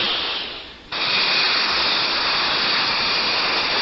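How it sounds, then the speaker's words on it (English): A jet-powered flying device lifts a man through the air, giving a steady loud roaring hiss that surges in abruptly after a brief dip and holds constant, with no talk over it. "a man being powered through the air without benefit of plane or balloon is today a reality"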